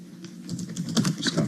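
Quick, uneven keystrokes patter on a computer keyboard as app listing details are filled in, close and fairly clear over a low background hum.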